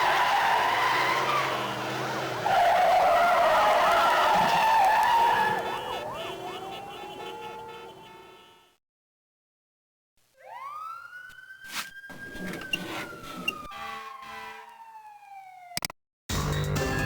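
Police cars in hot pursuit in a Spider-Man video game: tires skid loudly, a siren wails and then fades into silence, followed by a rising, sweeping siren and sharp impacts.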